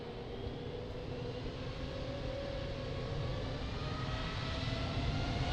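An airliner taking off from Lisbon Airport on runway 02, a steady broadband engine roar with a faint whine, heard from a distance and holding even throughout, with no talk.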